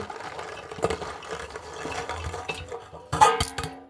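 Dried peas tipped into a pressure cooker for Bengali ghugni, a run of small hard rattling clatters against metal, with a louder burst of pouring near the end, close and without speech.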